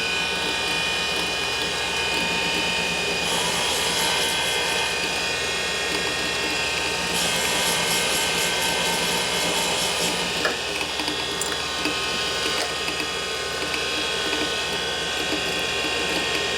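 A valve seat is being cut in the ironhead cylinder head of a 1980 Harley-Davidson Sportster XL 74ci stroker, giving a steady, close mechanical ratcheting and grinding that runs throughout with no talking.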